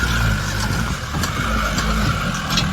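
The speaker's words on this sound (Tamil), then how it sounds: "என்ன வண்டி போர்ஸு பயங்கரமாக ஏறுதுப்பா" A vehicle engine labours steadily up a steep hill road to the Sitheshwaran hill temple near Idappadi. The drone is continuous and close, with a strong low rumble and a sustained mid-range whine.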